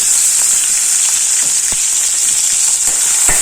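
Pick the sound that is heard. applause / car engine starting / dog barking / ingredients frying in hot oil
ingredients frying in hot oil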